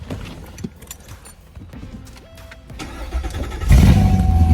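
A C7 Corvette with a newly replaced starter, tried with the ignition: faint clicks and rustling come first, then the engine cranks and catches into a loud, steady, rumbling idle up close.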